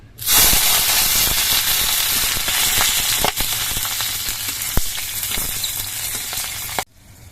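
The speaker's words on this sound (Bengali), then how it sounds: "এবার এই সর্ষের তেলের মধ্যে আমি কয়েকটা কাঁচা লঙ্কা ভেজে নিচ্ছি" Green chillies fry in mustard oil in a kadai with a loud, close, continuous sizzle and hiss that lasts about seven seconds before cutting off abruptly.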